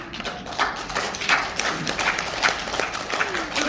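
Lecture audience applauding in a hall, a dense, steady patter of many hands clapping at moderate loudness for several seconds with no talk over it.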